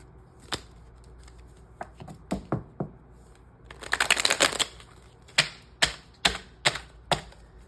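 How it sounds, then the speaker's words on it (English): A tarot deck is handled close up, with sharp card snaps and taps at irregular intervals and a dense burst of riffling shuffle in the middle. "I want to get a couple of cards from here, this deck"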